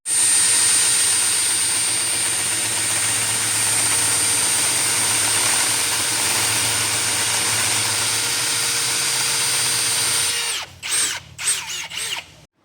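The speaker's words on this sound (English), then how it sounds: "after you notch it with a hole saw, it always ends up pretty burred up" A hole saw notches a steel tube lubricated with machinist coolant, a loud, sustained high-pitched drilling whine for about ten seconds, then stopping into a few short bursts and spin-downs.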